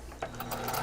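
A sewing machine runs a short stitching burst through fabric, with a close, steady mechanical whir and rapid needle clatter lasting under a second.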